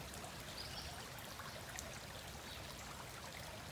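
A creek flows steadily beside a wildflower-lined bank on a late-May nature walk, a constant broadband rush of running water with no pauses, close and even throughout.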